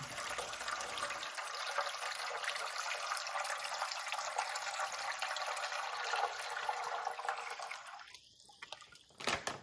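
Wine pours steadily into a sangria party punch, a continuous splashing liquid stream lasting several seconds before tapering off, close and fairly loud with no talking.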